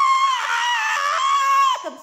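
A person's voice imitates a woman screaming: one sustained, shrill, high-pitched shriek lasting about two seconds, loud and close, that trails off at the end.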